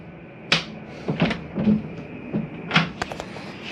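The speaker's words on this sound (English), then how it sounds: "Another door to make sure you have snapped down for travel." Compartment door on a 2019 Grand Design Reflection 315RLTS travel trailer being latched closed for travel, with several sharp, close clicks and knocks spread over a few seconds.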